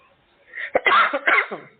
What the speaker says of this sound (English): I've lately been coughing a lot, so I'm sorry for the disturbance.